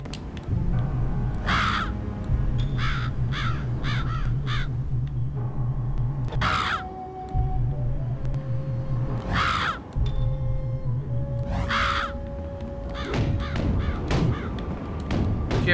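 Crows caw repeatedly in Psychonauts, with loud harsh bursts recurring every second or so over a steady game music bed and low rumble.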